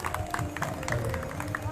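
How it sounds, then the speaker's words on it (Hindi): An audience at a Bhagwat Katha claps in steady rhythmic beats, a group of hands slapping together under a background of voices and music. "आप तो खाली ताली बजाओ"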